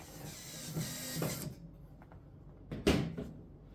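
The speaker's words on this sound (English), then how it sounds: "we can continue to secure the element back in place by replacing these 2 screws from the back" Two screws are driven in from the back to secure an oven fan element, heard as brief metallic clicks, rattles and scraping handling noises separated by quiet pauses, with one louder clatter near the end.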